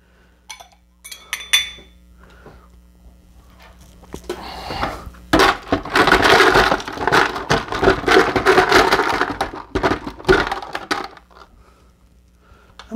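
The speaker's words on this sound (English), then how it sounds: "Then we're just going to throw some ice cubes in there." Ice cubes tossed by hand into a cocktail glass for a chocolate whisky White Russian, a burst of sharp clinks and rattles after a few quiet taps, loud and close, fading out at the end.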